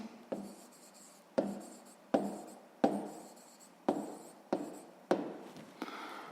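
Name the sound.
writing on paper during a maths exercise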